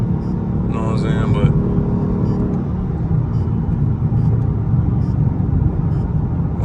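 A Dodge Scat Pack car accelerates on a highway, its engine a steady, loud low rumble with road and wind noise throughout, and a brief voice near the start.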